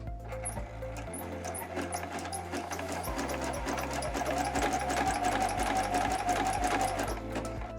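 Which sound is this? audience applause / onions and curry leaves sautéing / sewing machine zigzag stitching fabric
sewing machine zigzag stitching fabric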